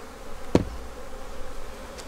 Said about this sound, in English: Now the bees are on me.